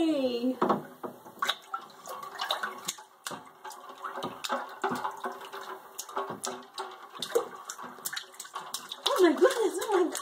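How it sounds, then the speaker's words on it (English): A baby splashing in bath water, with repeated sharp slaps and splashes at an irregular rhythm close by, while an adult talks over it. "Are you playing in the water?"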